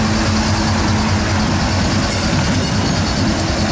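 A CSX freight train with DPU locomotive 3458 rolls by close and loud, a dense continuous roar of wheels and cars on rails with a steady low engine hum, no voices over it.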